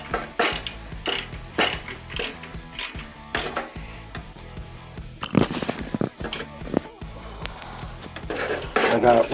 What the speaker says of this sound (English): Now I'm just gonna loosen the bolt that's on the frame.